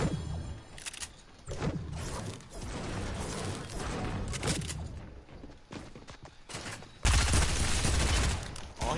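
Rapid bursts of AK rifle fire in a Fortnite match, overlapping volleys crackling in close succession with a louder, denser barrage near the end.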